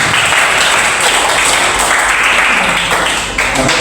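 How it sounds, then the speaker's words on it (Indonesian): Students in a classroom break into loud, dense applause, a continuous rattle of close handclaps that holds steady for several seconds, with no voices on top. "Tepuk tangan."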